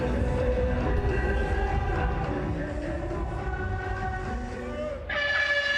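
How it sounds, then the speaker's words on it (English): A loud horn sounds at a field hockey match between Dragons and Toofans in the Hero Hockey India League, holding a steady tonal blare for several seconds over crowd and commentary noise. "Hooter goes and Craig sets off"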